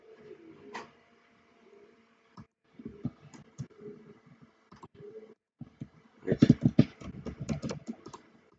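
A computer keyboard is used to enter measurements while designing a print layout: scattered quiet keystrokes with pauses, then a quick burst of close, crisp key presses near the end.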